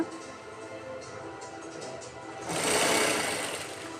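A sewing machine stitches along the fall of a saree, running at a fast, even buzz close by and growing louder and harsher in the last second and a half, with no talk.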